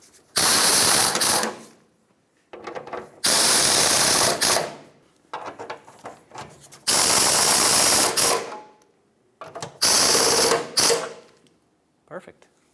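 Bolts on a power steering hose shield of a 1996-2002 Toyota 4Runner being snugged up with a ratchet or power tool, in several loud bursts of whirring mechanical noise separated by short pauses, close up.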